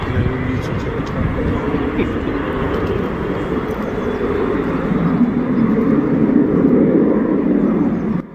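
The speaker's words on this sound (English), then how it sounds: "As the aircraft was just about to touch the runway, he realized it and quickly initiated a go-around" A Fuga CM-175 Zephyr jet aircraft on a go-around just above the runway, a loud, steady roar of jet engines that swells slightly toward the end and stays alone throughout.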